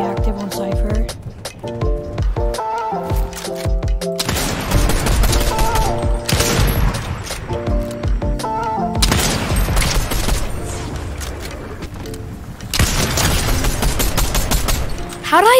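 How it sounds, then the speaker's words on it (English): Sniper rifle and other gunfire in Fortnite gameplay, dense bursts of shots and booms over game music and effects, with a player talking throughout. "How did I even hit that snipe?"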